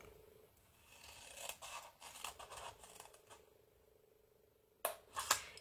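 Scissors cut card or paper straight along a fold line while a craft box is being made, giving a few soft scraping snips, then two sharper, louder closing snaps near the end.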